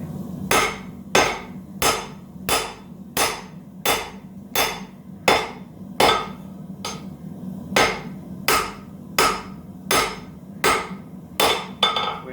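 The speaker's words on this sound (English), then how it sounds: "Hammer swinging is not keen today." Steady hammer blows ring out about every half second, loud sharp metallic strikes repeating in an even rhythm over a low background hum.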